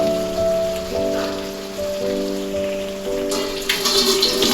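Broth is poured into a pan of yogurt chicken, a steady close splashing rush of liquid with a faint tonal hum beneath, swelling into louder sizzling splatter near the end, with no speech.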